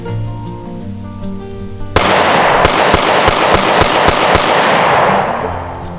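Smith & Wesson M&P Shield pistol firing steel-cased rounds from an 8-round magazine, a rapid string of about eight sharp loud shots in steady rhythm, each echoing outdoors with no talking.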